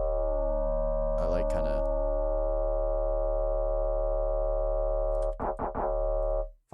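A sustained, buzzing neuro drum and bass synthesizer bass tone with clashing, dissonant harmonics drones steadily throughout, with a few brief spoken words cutting in over it.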